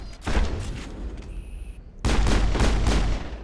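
Pistol gunfire from the video game Mass Effect, a burst of loud shots with booming impacts in two dense clusters, separated by a brief lull with a faint high tone.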